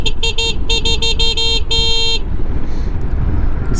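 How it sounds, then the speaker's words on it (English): A horn on a NIU NQiGT electric scooter honks on a North Portland street: a quick rhythmic run of about seven short beeps ending in one longer blast, loud and close over steady road and motor noise. "Honk at these guys."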